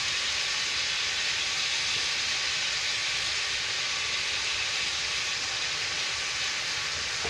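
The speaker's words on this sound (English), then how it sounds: "We're going to cook this ground beef and boil these noodles" Ground beef cooks in a pan while mostaccioli noodles boil, producing a constant broadband hiss that stays level and unbroken throughout, fairly faint and with no talking.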